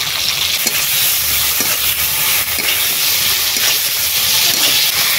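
Chopped tomato, onion and chillies frying loudly in oil with salt and ginger paste, a dense hissing sizzle close up, punctuated by occasional stirring scrapes, with no voices.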